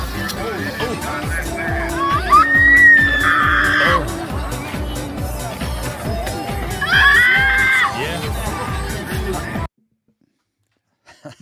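Loud, continuous screaming and crowd noise at a street protest in Portland, with swelling shrieks at two points and a busy background of voices and traffic-like rumble before an abrupt cutoff near the end.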